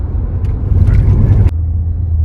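A car rolls slowly into a Tesla pickup location, giving a steady low rumble of tires and road noise that stays close and even, with a brief bump partway through.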